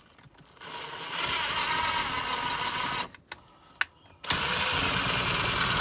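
An impact wrench with a small impact socket spins a little scissor jack up under a vehicle during a heavy transmission install, a loud steady whir that runs for a few seconds, cuts out, then gives short bursts and resumes.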